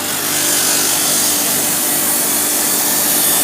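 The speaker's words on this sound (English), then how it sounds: "I'm going to sand the flight edge on first" A power sander working the flight edge of a handmade wooden boomerang held in a jig, giving a loud, continuous abrasive whir and rasp close to the microphone, with no talking.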